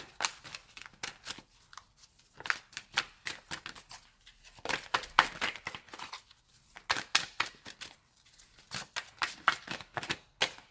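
A deck of oracle cards being shuffled and drawn, bursts of rapid papery riffling and snapping in quick clusters separated by short pauses, close and fairly quiet with no speech.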